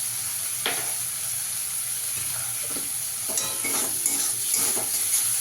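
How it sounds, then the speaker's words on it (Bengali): Spice paste being sautéed in a pan, a steady low sizzle with a series of spatula scrapes and stirs that grow more frequent toward the end, close and moderately quiet. "এবার ভালো করে মশলাটাকে কষিয়ে নেব"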